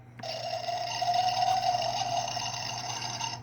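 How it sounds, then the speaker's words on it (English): Toy McDonald's drive-thru play set with a push-button soda machine filling a small plastic cup, giving a steady electronic pouring, fizzing effect that runs continuously for about three seconds at moderate level with no talk. "it sounds like it's filling up the cup with soda"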